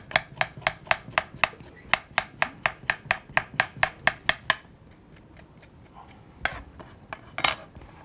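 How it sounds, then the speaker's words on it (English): Spoon scraping the skin off a piece of fresh ginger, a rapid run of about fifteen crisp, evenly spaced scrapes close up, then a pause with a few scattered scrapes and knocks near the end. "you just get a spoon so that you're not wasting, and you just scrape it very lightly, and that will take the outer skin out"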